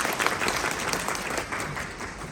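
Another round of audience clapping in a hotel lecture hall, given on request. It is full and continuous, louder at the start and easing slightly near the end.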